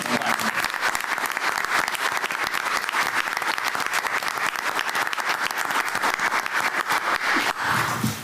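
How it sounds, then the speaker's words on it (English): An audience at a school board meeting breaks into sustained applause, a dense, steady wash of many hands clapping that carries on evenly for several seconds before tapering slightly at the end. "now I can clap"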